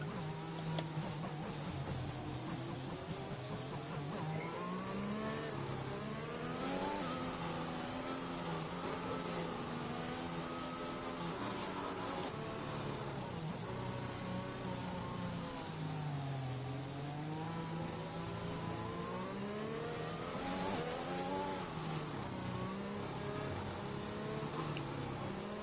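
F1 race cars roar through a safety-car period in the F1 2021 game at Portugal, engines whining and shifting pitch continuously as cars rise and fall in revs, loud and unbroken for the whole stretch.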